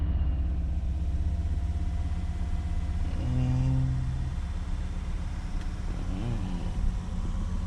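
A Volvo S60/S80/V70 2.4 non-turbo petrol engine with a misfire runs close by with a steady low rumble, rising slightly in revs with brief uneven wobbles.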